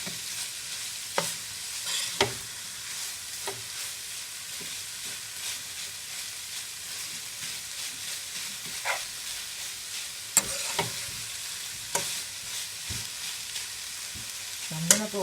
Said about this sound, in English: Stir well, mix well, everything be incorporated, all the seasoning and all the flavors incorporated